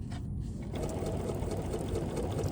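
A sewing machine stitches a zippered circular bag, a steady close-up mechanical whir that runs without a break from start to finish.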